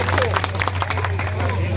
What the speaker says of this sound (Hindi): बजाओ जोर से ताली।